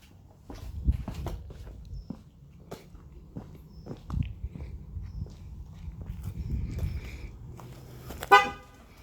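Footsteps walk away from a car fitted with passive keyless entry, then a single short horn chirp sounds as the car locks itself, close and sharp against quiet surroundings.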